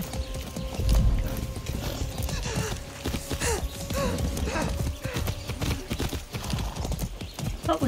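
Rhythmic clip-clopping of horse hooves in the video game Far Cry 6 continues steadily alongside occasional snorts and breathy sounds, with a muffled, layered background throughout.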